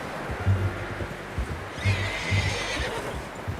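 A horse in Red Dead Redemption 2 whinnies loudly over a steady rumble of background noise, with a few soft hoof clops around it.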